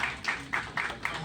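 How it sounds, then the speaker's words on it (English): A small group claps at a Republican event in New York City, several brief bursts of hand claps at a fairly steady pace, thin and somewhat distant. "please give everyone a round of applause"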